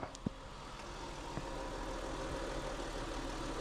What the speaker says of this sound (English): All right, car's running.